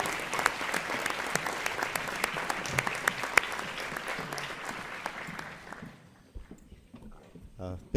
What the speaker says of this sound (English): Another big round of applause for Honors Chorus